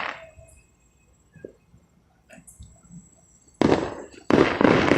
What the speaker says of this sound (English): You can't really hear me that well because of all the sound of the fireworks right in it.